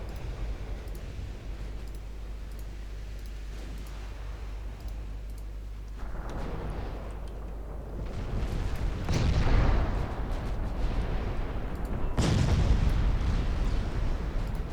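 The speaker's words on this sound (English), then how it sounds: "Now, battlecruisers, you may open fire." Battlecruiser naval guns firing in the warship game Ultimate Admiral Dreadnoughts, heavy booms rolling out over a constant low rumble, with distinct blasts around the middle and near the end, loud and reverberant, without talk.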